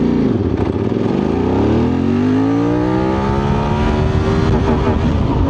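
A 2024 QJMotor Xiao SRT 600 ADV motorcycle with a 270-degree crankshaft pulls away and accelerates hard, its engine note rising steeply through the revs, loud and close, with a throaty, pulsing drone.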